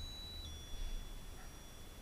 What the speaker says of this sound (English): Is that you affecting making that machine beep?